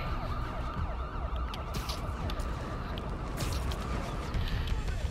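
A police car siren wails in the Spider-Man video game, rising and falling continuously under busy in-game noise and running footsteps, with a voice speaking over it.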